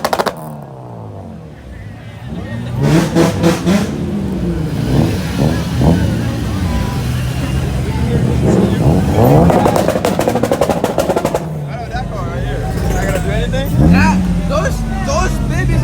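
Several cars rev loudly in bursts, engines roaring up and dropping back over steady idling, with people talking and shouting over the noise throughout.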